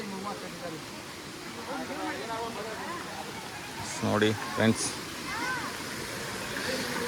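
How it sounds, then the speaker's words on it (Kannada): A stream near Yana caves flows with a constant watery rush, close by under a voice talking, with a few brief knocks partway through. "ಈ ಜರಿಯ ಮಧ್ಯೆ ನಡ್ಕೊಂಡು ಹೋಗೋದು ಇದು ಎಕ್ಸ್ಪೀರಿಯನ್ಸ ಬೇರೆ"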